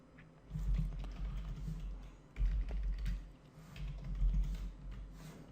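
Someone types PHP code on a computer keyboard, producing quiet, close, irregular clusters of key taps with brief pauses between bursts.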